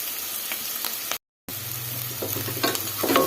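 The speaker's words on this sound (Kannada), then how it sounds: "ಈ ಥರ ಫ್ರೈ ಮಾಡ್ಕೊಬೇಕು" Ingredients for dal tadka sizzle and crackle in a hot pan with scattered stirring clatter, a steady close frying hiss broken by one brief silent gap.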